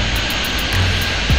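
Steady small-plane engine drone in the Airport Madness 3D airport game, a continuous loud hum held at even level throughout, with no talking.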